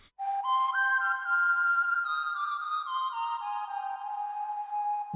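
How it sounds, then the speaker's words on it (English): A bright synthesized whistle voice on a Yamaha Genos 2 keyboard plays a short sliding melody, clear and sustained, alone against silence. "This new whistle is just so much fun."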